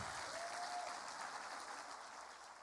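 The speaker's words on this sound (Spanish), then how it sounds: "Dale un fuerte aplauso al Señor." A church congregation applauds, a soft, distant wash of many hands clapping that continues evenly and stays faint throughout.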